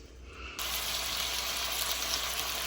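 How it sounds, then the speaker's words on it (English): Marinated meat dropped into an oiled pan for Asian pepper steak breaks into a loud, steady broadband sizzle after a brief quieter moment, continuing evenly without talk. "We're gonna add our meat with the marinade into the pan"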